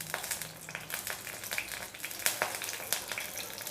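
Curry leaves sizzling in hot peanut oil in a pan: a steady, close crackle with sharp pops and spits throughout, and no talking.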